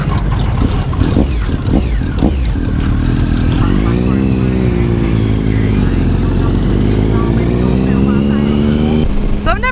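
A Triumph Speed Triple 1050 motorcycle rumbles loudly up close as it pulls out, its engine rising through a revving climb, joined by other bikes in a group ride, with wind noise throughout.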